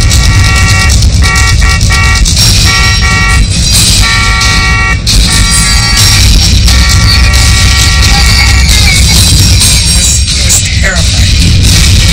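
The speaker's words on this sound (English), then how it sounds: "We were repeatedly honking the horn." A car horn honks repeatedly in short and longer blasts with gaps between them, loud and close over a busy noisy background, with talk mixed in.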